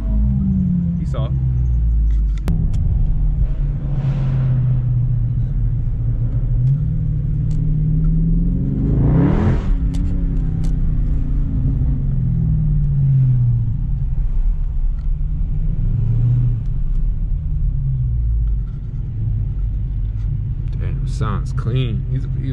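A Mustang's exhaust rumbles steadily and deep in traffic, with a few revs swelling and falling away. Someone talks over the sound almost the whole time.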